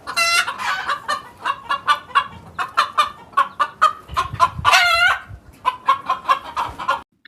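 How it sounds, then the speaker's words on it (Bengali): Cartoon wild jungle fowl clucking, a close, lively run of rapid sharp clucks and squawks from several birds, with a louder excited burst in the middle. "জঙ্গলের মাঝখানে এক জায়গায় কিছু বন মুরগি খাবার খাচ্ছিল।"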